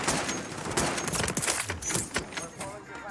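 Rapid bursts of friendly-fire gunfire in the war game Foxhole, dense overlapping shots crackling nearby throughout the short stretch, with a voice over them.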